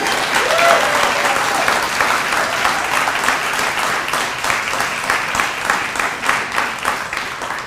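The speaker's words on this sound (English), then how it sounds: "Please give a round of applause for all of them people." Loud, dense audience applause at a multicultural graduation celebration, a sustained roar of many hands clapping that gradually thins toward the end, with a faint cheer early on.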